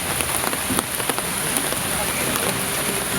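Heavy rain in Idukki pours down in a dense, steady hiss that stays loud and even throughout, with scattered sharper drop impacts on a hard surface.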